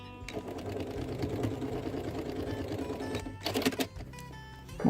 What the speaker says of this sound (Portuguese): vou rebater a costura aqui bem na beiradinha